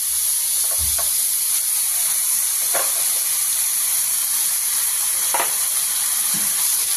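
Two spoons of garlic go into hot oil, and a constant, loud hiss of sizzling frying follows, broken by a few soft scrapes and clinks of a spoon.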